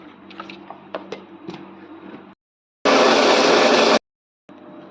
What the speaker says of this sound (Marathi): हे मिक्सरमधून आपण वाटून घेणार आहोत